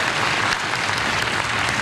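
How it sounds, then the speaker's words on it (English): Loud, sustained applause from an audience at a talk on government support for entrepreneurship in Pakistan, a dense, even wash of many hands clapping close by. "I think it deserves a round of applause from all of you"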